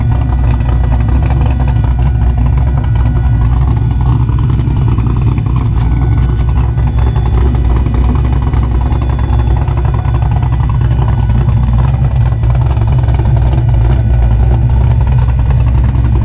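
A Ford 351W stroker V8 breathing through straight-through mufflers gives a loud, steady, deep exhaust rumble that holds throughout at close range.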